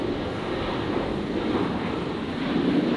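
Qantas flight 555, a jet bound for Sydney, powers up for takeoff at Brisbane Airport, a loud, steady engine roar that holds evenly throughout.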